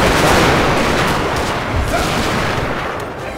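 Massed musket volleys crackle continuously in a Napoleonic-era battle in the video game Napoleon: Total War, a loud, dense wash of overlapping gunfire with no gaps, heard without any talking.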